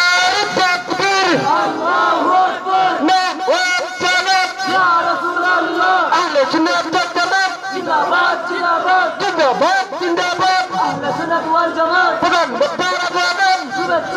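A large crowd at a Sunni religious gathering roars back in unison to a takbir call, loud, sustained, rhythmic chanting that fills the whole stretch.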